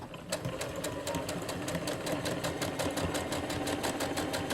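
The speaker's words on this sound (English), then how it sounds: "So we're gonna go ahead and start sewing here." A sewing machine stitches a cloth face mask, a steady fast mechanical whir with rapid regular needle ticks, close and fairly quiet, running continuously without speech.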